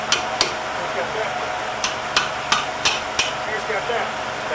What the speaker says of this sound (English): let me get the hammer